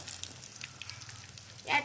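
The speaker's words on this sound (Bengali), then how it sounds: "ওলট পালট করে লাল লাল করে ভেজে নিয়েছি" Amudi sea fish frying in a pan, Bengali style, giving a quiet, steady sizzle with faint crackles and a brief louder burst near the end.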